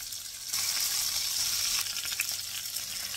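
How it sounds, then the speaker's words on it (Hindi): Seekh beef kebabs frying in hot oil make a steady, close hiss and sizzle with a bright crackle that jumps up after a quieter start and keeps going without talk. "और इसी तरह हमने बाकी के बचे हुए कबाब भी फ्राई कर लेने हैं।"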